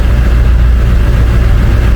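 An International 444E diesel engine in a truck fitted with a new turbo idles steadily, a close, continuous low rumble with an even throb and no revving.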